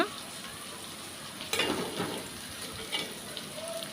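Prawns fry in plenty of hot oil in a pan, a continuous crackling sizzle with a sharper splash of frying partway through and faint clinks, with no one speaking.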